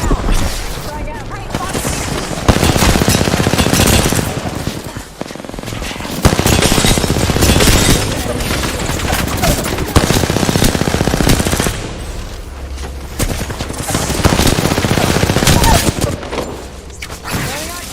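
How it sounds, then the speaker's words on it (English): Sustained automatic gunfire and explosions from Call of Duty: Modern Warfare II multiplayer, loud and dense throughout with bursts of rapid fire, booms and brief lulls, with voice chat and game callouts mixed in. "Shooting at us."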